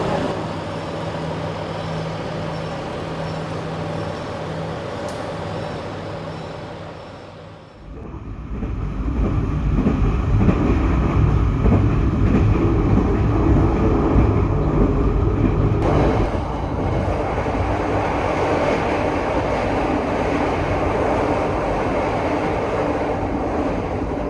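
An airport rail link train rumbles past on the southern line near Lempuyangan station in Indonesia, a loud sustained roar swelling up suddenly and holding steady, heard from on board or close by, with no talking.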